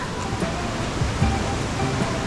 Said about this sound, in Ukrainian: тут збоку річка тече